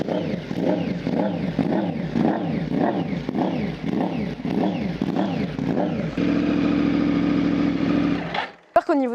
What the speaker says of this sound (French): Vous avez écouté ce doux son de ce magnifique R1.